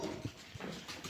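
A dog whimpers softly on a rainy outing, a few faint, brief whines and snuffly breaths close to the microphone with no talk.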